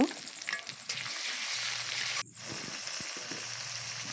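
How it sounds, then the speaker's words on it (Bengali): Spices and onion fry in oil for a spicy country duck curry, making a loud, steady close sizzle that suddenly drops to a quieter simmering crackle partway through. "ভালো করে মশলাটা ভেজে নিতে হবে"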